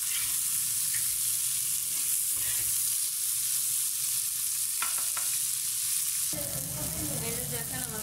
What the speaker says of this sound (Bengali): কলার ফুলকাগুলো সিদ্ধ করে আমি হালকা তেলে ভেজে নিচ্ছি